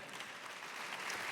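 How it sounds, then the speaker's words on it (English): Conference audience applauds a speaker on stage, a short, fairly faint burst of clapping that holds steady and builds slightly. "deserved applause"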